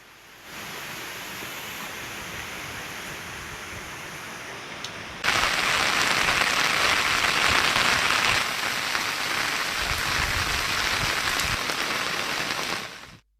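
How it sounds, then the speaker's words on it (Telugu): Heavy rain from Cyclone Montha pours down around the flooded track area of Warangal railway station, a dense and steady hiss that grows louder partway through and then continues without a break. "భారీ వర్షం."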